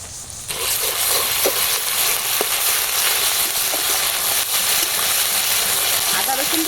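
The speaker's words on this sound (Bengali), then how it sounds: "বেটে রাখা আদা রসুনটা দিয়ে দিচ্ছি" Ground ginger-garlic paste drops into hot oil already holding fried onion and green chilli, setting off a loud, steady sizzle that carries on throughout with faint stirring clicks underneath.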